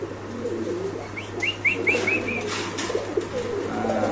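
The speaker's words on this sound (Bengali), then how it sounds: "এত পরিমাণ ডাকাডাকি করে এই কবুতরটা নিজের খাঁচায়" A Spanish pigeon in its cage coos in a short run of repeated soft notes, close by, with faint bird chirps and low background noise around it.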